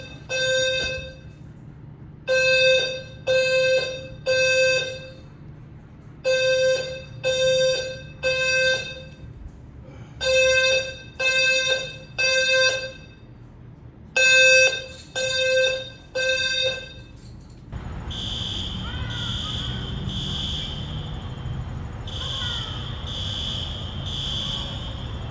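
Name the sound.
fire alarm going off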